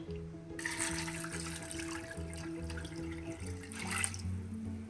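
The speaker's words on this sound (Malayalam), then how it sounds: "വേവാൻ ആവശ്യമുള്ള വെള്ളം കൂടെ ഒഴിച്ച്" Water pours into a pressure cooker holding red beans for cooking, a soft splashing stream that swells twice, faint beneath steady background music, no talk.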